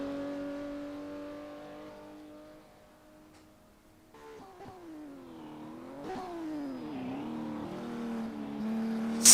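A classic Porsche race car engine in the rFactor racing game, from a South African Classic Porsche Cup round, holds a steady drone and then revs and shifts repeatedly as it accelerates, alone with no voices.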